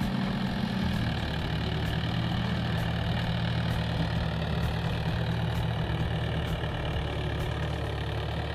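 A tractor engine idles steadily with a low, throbbing diesel chug and a faint regular knock, close and constant throughout with no talk.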